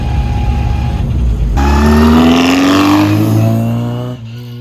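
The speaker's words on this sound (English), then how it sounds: "Oh, the joys of a small car. It feels fast." A classic Mini's engine revs and climbs in pitch as it accelerates, loud and close, then eases off near the end.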